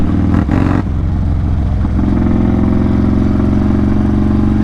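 A car engine drones loud and close with a steady low hum, a brief shift in pitch early on before it settles into a constant mid-range roar.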